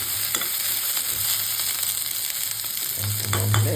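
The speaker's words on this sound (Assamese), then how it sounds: "পকা জলকীয়া বিলাহী আৰু পিঁয়াজ এইটো ভাজিছোঁ" Ripe chilies, tomatoes and onions fry in a pan with a steady, close hiss of sizzling oil that holds evenly throughout, with no voices.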